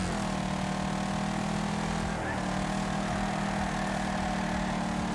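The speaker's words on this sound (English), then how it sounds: "I love the sound of the engines in this game though" Racing car engines in Wreckfest drone steadily throughout, a sustained mid-pitched motor hum with a slight shift in tone partway through and no break in the sound.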